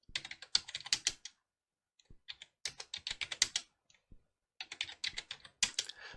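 Numbers are typed on a computer keyboard for a spreadsheet data-entry exercise, with quick, close, crisp keystrokes in three separate runs split by short silences and no talking.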